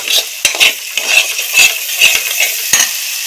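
Spices sautéing for palak paneer: a metal spoon scrapes and clinks rhythmically against the pan over a soft sizzle, the stirs close and bright, repeating every half second or so.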